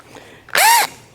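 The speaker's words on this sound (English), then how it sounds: "I'm going to countersink these holes on the outside." Power drill countersinking screw holes, a single short loud whine of the motor spinning up and cutting for about a third of a second, then stopping, close and alone.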